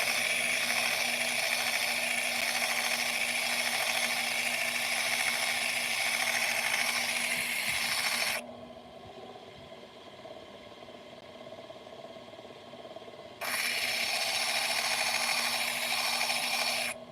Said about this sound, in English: I just gotta grind it past this damaged area